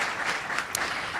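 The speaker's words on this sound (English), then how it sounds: "I think they deserve another round of applause" An audience at a public higher education funding event breaks into applause, a dense burst of many hands clapping that fills the short moment at moderate loudness, with no voices over it.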